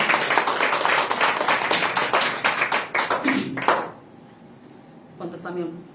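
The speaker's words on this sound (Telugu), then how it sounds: "చప్పట్లు దేవుని పడతాం" Congregation applauding in praise to God during a Christian prayer meeting, a dense burst of many hands clapping loud and close for about four seconds before it stops abruptly, followed by a brief quieter stretch and a voice.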